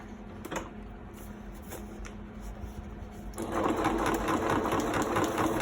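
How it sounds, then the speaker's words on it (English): A sewing machine running a straight stitch down the middle binding of a handmade junk-journal notebook, a steady mechanical whir that grows louder and busier partway through, with no talking. "Now I'm going to go ahead and stitch the middle, the binding."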